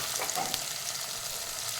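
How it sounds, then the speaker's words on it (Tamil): Shallots and garlic fry in an open pan for a Tamil manathakkali tamarind curry, giving a steady, close, crackling sizzle that fills the moment without any talk. "இந்த சின்ன வெங்காயமும் பூண்டும் கொஞ்சம் நல்லா வதங்கி வரட்டும்."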